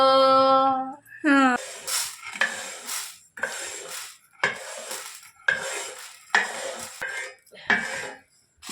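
Horsegram dry-roasting in a pan is stirred with a metal spoon, giving rhythmic scraping and clinking strokes at close range after a brief voice at the start.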